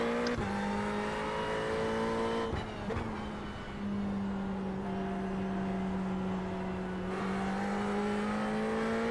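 Ferrari 488 GT3 race car lapping Watkins Glen in a racing game, a loud sustained engine whine that shifts pitch with gear changes and throttle lifts, steady throughout with no talk.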